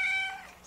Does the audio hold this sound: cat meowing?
yes